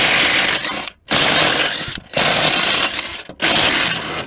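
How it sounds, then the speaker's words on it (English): An impact tool loosens 18 mm bolts on a steering box at a junkyard, three long loud rattling bursts separated by short pauses, close and alone. "So pull these bolts out and we'll get that box going."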